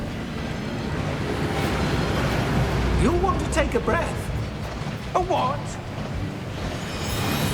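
Rushing waterfall inside the Gringotts vaults in Hogwarts Legacy, a steady broad roar running throughout beneath speaking voices.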